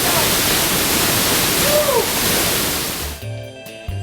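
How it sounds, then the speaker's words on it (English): Loud, dense roar of the large Pailón del Diablo waterfall in Ecuador crashing nearby, steady and unbroken, then cutting abruptly to faint music near the end. "I'm standing here below one of the largest freaking waterfalls in the whole country of Ecuador."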